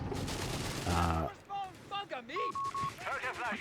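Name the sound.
sniper and gunfire in Company of Heroes 3 video game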